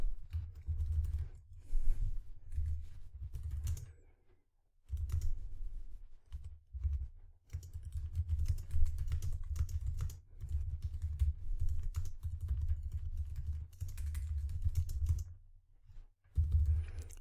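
Bursts of typing on a computer keyboard while entering maths working into a document, close and fairly loud keystrokes in runs broken by short pauses, with a few stray clicks and no speech.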